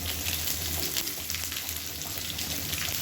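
Small shallots, garlic and spices sizzling in hot oil for a sambar tempering, a steady close hiss and crackle throughout with no speech.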